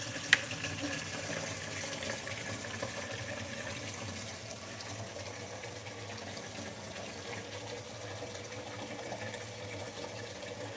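Cold tap water runs into a bowl being readied as salted soaking water, a soft, steady rushing stream heard close and fairly quiet, with a small clink near the start.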